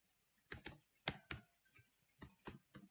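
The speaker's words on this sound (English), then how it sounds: "We start by typing the first one." Typing on a computer keyboard, entering scripting code for an After Effects animation: short irregular bursts of key clicks in small clusters, close and quiet, with no talking.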